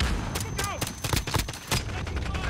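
A stun grenade thrown in Call of Duty: Modern Warfare, with a rapid string of sharp gunfire bursts and blasts crowding the scene, loud and close, while a voice speaks over the game noise.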